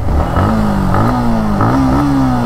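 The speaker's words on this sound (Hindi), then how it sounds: "क्या चल रही है बाइक, एकदम मक्खन, एकदम स्मूथ चल रही है बाइक।" A 2022 Yamaha MT15 V2 motorcycle engine revs in short rising pulls during a ride, loud and close, the pitch climbing and dipping a few times over a steady mechanical drone.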